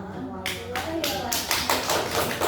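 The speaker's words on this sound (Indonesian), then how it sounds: "kita berikan tepuk tangan terlebih dahulu" Audience applause at a school teachers' event, a few claps that swell into a burst of steady clapping, with people talking alongside.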